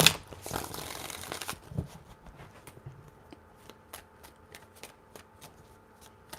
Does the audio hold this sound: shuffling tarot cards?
yes